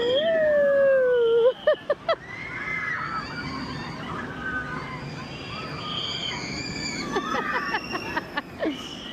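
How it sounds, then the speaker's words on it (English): Distant high-pitched screams from roller coaster riders at Knott's Berry Farm rise and fall under a rumbling, whooshing ride noise, with a nearby voice speaking at moments. "Oh, the screaming."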